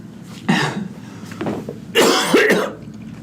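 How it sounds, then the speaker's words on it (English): Several harsh, hoarse coughs burst out close by in quick succession, the last ones louder and more strained, like a throat being cleared. "I can't stop coughing."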